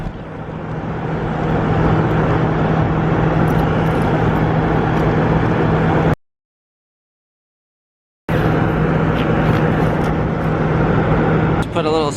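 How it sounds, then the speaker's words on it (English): An air conditioner runs right beside the listener inside an RV, producing a loud, steady broadband roar with a constant low hum, cut off by a two-second silence before resuming unchanged. "Sorry about the noise, I've got the AC literally going right next to me."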